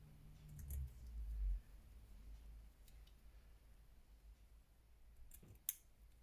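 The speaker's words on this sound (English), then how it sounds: "so let's snip through here" Scissors snip through paper and lace on a handmade graduation journal, a few faint, crisp cuts in a quiet room, with a sharper click near the end.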